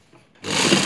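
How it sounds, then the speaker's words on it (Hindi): A sewing machine starts abruptly and runs at a steady, close, loud whir while stitching fabric for boxer shorts. "इसके हम चारों तरफ सिलाई लगा देंगे।"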